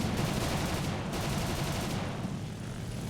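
Rapid gunfire from the cannons and machine guns of a Fw 190 A-5/U2 fighter in War Thunder, a dense continuous burst sounding close and loud, with no talk over it.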